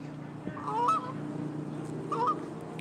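A goose honks twice at a fishing pond stocked with carp and catfish, two clear nasal calls about a second apart over a low steady hum, fairly close, with no talk.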